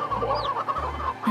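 Chickens clucking close by in a backyard coop, a short run of low, throaty clucks with a brief higher squawk, no talking.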